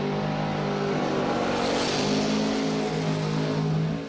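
A 1990 S10 and a 1968 Camaro at a door-slammer drag race, loud sustained engine roar throughout, close and unbroken.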